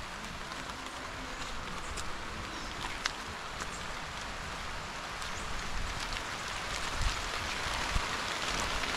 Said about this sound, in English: We have some expected but also unexpected rain.